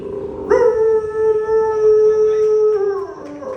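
A voice imitates a dog's long howl at a community gathering, a single sustained, wavering tone that rises sharply and holds for about three seconds before fading.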